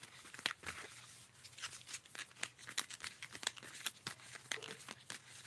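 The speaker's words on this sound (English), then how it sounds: "I'm shuffling." Tarot cards being shuffled off camera, a rapid run of soft riffling, slapping and papery crinkling clicks, close and faint, repeating irregularly with no talk.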